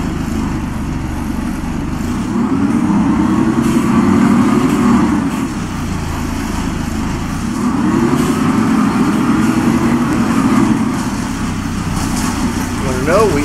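An engine drones in a Karosa S11 bus with automatic transmission in the OMSI 2 simulator, rising and falling in pitch as the bus pulls away through two accelerations, loud and close; someone talks briefly over it.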